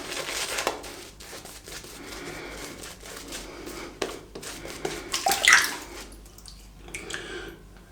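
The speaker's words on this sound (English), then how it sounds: "I'm gonna dip the brush, get some water in it." A shaving brush dipped and swished in water, giving soft splashing, dripping and squishing sounds up close, with a brief louder slosh partway through and no talking.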